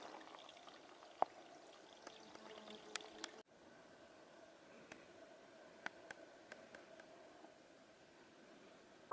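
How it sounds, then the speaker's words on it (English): A faint, steady trickle of water from a small stream along Grouse Creek Trail on the Pacific Crest Trail runs continuously, with a few small drips and ticks scattered through it. "This is by a little trickling stream."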